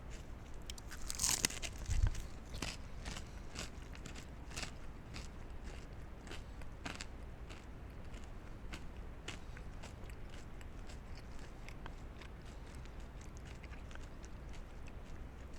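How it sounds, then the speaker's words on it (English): A crunchy bite into a Papa John's Doritos Cool Ranch Chicken Papadia, a single crisp crunch near the mic followed by faint chewing against a quiet room background. "Okay, a little bit of a crunch on the edges"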